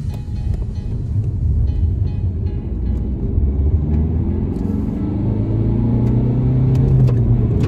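A 95-horsepower Alfa Romeo MiTo 1.3 JTDm diesel car accelerates in dynamic mode, its engine a steady loud rumble rising through the gears with wind and road noise inside the cabin.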